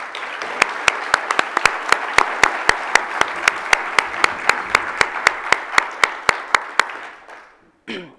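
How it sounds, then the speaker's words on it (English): An audience at a keynote event applauds in a sustained, even round, while one near, loud pair of hands claps in a steady rhythm on top. The applause fades out at the end. "let's give her a round of applause"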